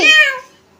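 A single cat meow, loud and close, with a clear rising then falling tone that fades out within about half a second, followed by near silence in an indoor home setting.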